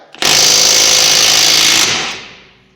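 Stubby cordless electric impact gun hammering off lug nuts torqued to 70 pounds, a loud continuous rattling burst close up for about two seconds that then cuts off and fades.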